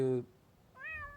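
A domestic cat meows twice: a short voiced call, a brief pause, then a longer rising meow, fairly close and clear with no talk over it.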